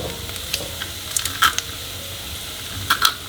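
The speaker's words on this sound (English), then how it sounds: "So you start by just frying an onion." Red onion and garlic fry in a generous amount of olive oil, a faint steady sizzle with sharp scrapes and clinks of stirring heard close up.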